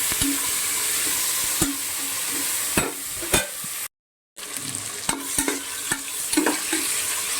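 Prawns frying with ginger garlic paste and onions, a steady sizzle stirred with repeated scraping clicks against the pan, close and continuous, with no one talking.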